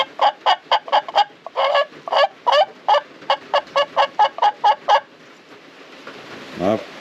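Wenge box turkey call worked by hand, a rapid string of sharp, yelping clucks in even rhythm, loud and close, then stopping before a brief low voice.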